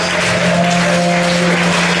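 Church congregation at an evening prayer gathering applauding and cheering for Jesus, a dense, steady wash of clapping and crowd noise with sustained vocal tones running throughout.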